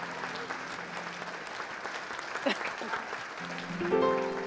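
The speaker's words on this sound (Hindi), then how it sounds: "तालियां" Indoor audience applause runs steadily throughout, a continuous clatter of many hands, with a voice and tonal sounds rising over it near the end.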